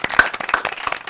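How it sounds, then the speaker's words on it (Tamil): Audience at a quiz show clapping for a team, a short burst of several distinct hand claps from a small group, close and crisp. "இரண்டு அணிகளும் சேர்ந்து அவங்கள பாராட்டுற மாதிரி ஒரு கைத்தட்டல் கொடுத்துருங்க"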